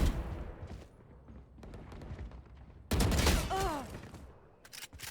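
Rapid bursts of gunfire from the video game Valorant crack out in quick clusters, loud and close, with a sharp flurry of shots near the end over a low game background.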